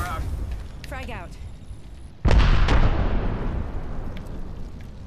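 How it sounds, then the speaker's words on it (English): A frag grenade and arc star detonate in the Apex Legends video game, a sudden loud broadband blast near the middle followed by a sustained rumbling decay, with brief game voice callouts just before. "Throwing frag. Throwing arc star. Tossing thermite. Arc star out. Frag out."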